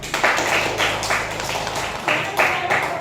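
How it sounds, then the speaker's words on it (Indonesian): A school class claps in short bursts with brief pauses between, close and lively, a room of children applauding together. "Kita beri tepuk tangan untuk kelompok 4."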